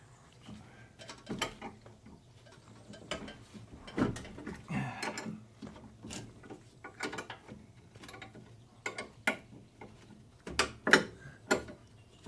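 Mechanical clanks, ratcheting clicks and metal knocks from loosening a guard on a Husqvarna zero turn mower deck with the deck lowered, coming in irregular bursts at close range with no talk.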